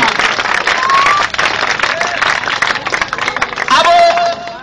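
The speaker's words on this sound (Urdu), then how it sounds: "نعیم اللہ کے لیے خوبصورت جوش سے تالیاں لگا دیں" Audience at a 14 August Independence Day celebration in Budhla Sant clapping loudly. The applause is dense and lively and swells toward the end, with crowd murmur and scattered voices mixed in.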